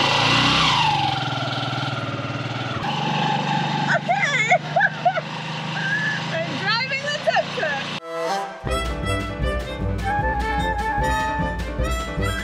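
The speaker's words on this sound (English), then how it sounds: "That was my first time trying to ride in a tuk-tuk, or trying to drive a tuk-tuk" Tuk-tuk engine running while driving at a beach town in Mancora, Peru, a steady mid-pitched motor drone that later gives way to a busier, rattling stretch, with people talking over it.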